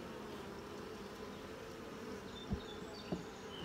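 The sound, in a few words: honeybees buzzing at an open beehive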